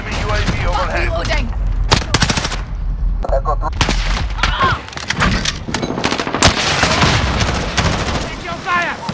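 Gunfire in Call of Duty Modern Warfare during team deathmatch play, loud close bursts of automatic fire and sharp single shots in irregular clusters, with booming impacts and shouted voices mixed in.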